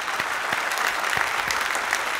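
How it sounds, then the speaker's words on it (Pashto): A studio audience at a TV anniversary special gives a dense, steady round of applause, many hands clapping at once, filling the room for a couple of seconds without voices. "په ویاړې چکچک وکړي"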